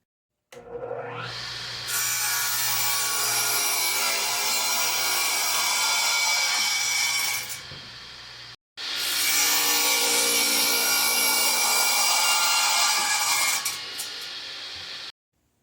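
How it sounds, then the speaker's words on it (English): A radial arm saw makes two long cuts through a wooden board, each a loud, steady rasping whine lasting about six to seven seconds, with a short pause between them and no voices. "So I'm going to take that over to my radial arm and cut it up."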